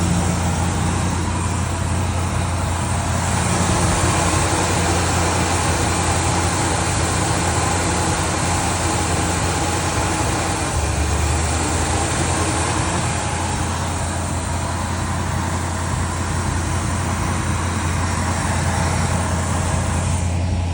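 A steady, loud V8 engine idle from a 1967 Chevrolet C10 truck, idling a little high with a constant low rumble, running unchanged throughout with no talking.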